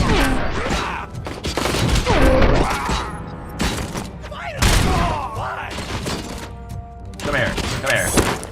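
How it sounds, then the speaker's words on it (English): Bursts of gunfire ring out in RoboCop: Rogue City, clustered shots and thumps scattered across the stretch, loud and punchy, with a voice talking over the action. "Finally, some shooting!"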